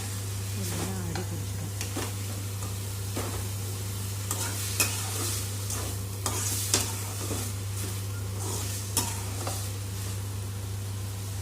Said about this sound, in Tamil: அடிக்கடி கிளறி விட்டுமே இருந்தேன்